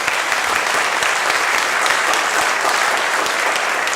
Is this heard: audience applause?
yes